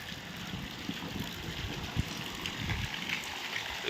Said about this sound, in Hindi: ये देखो, और नाले चल रहे हैं